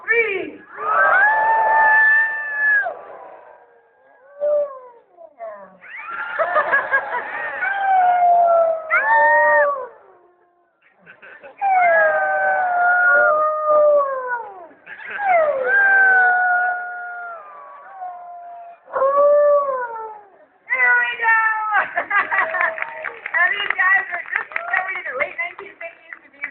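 A crowd of zoo visitors howls in bursts, answered by a New Guinea singing dog's wavering, sliding howls; several loud alternating calls with short gaps, voices overlapping toward the end.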